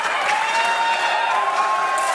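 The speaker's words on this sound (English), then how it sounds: "the crowd is going crazy here at the World Cup" A crowd at an ISSF shooting World Cup 10m air pistol final in Bhopal, India claps and cheers loudly and continuously, a dense wall of applause with a faint voice or whistle running through it.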